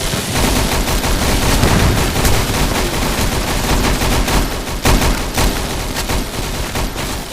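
Roblox gunfire from a house-defense game against monsters, a dense continuous barrage of rapid shots rattling loudly for several seconds with no pauses.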